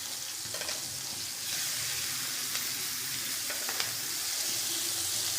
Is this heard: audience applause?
no